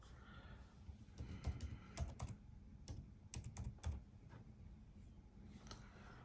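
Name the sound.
typing an email address on a MacBook Pro keyboard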